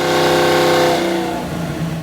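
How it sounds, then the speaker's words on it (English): A 1965 Mustang engine revs hard on a dyno during tuning, a loud, steady, rising mechanical roar that sustains, then eases slightly as the pitch falls, heard from outside the building. "It's so weird to hear my car from the outside."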